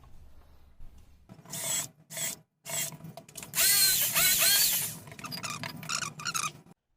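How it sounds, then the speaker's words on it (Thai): Power drills bore holes and drive screws into wooden sofa legs in close, loud bursts. Short whirring spurts separated by pauses build to a longer grinding run, followed by smaller intermittent bursts. "สว่านถ้ามีสองตัวจะทำเร็วขึ้นครับ ตัวหนึ่งเจาะนำตัวหนึ่งขันสกู มาเข้าขากันเลยครับ"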